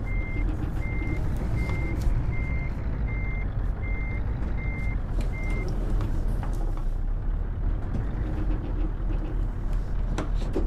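Scania truck with trailer backing up in Euro Truck Simulator 2, steady evenly spaced reversing beeps over a loud diesel engine drone, with the beeping stopping partway while the engine carries on.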